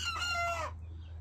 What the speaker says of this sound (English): Somebody's trying to crow.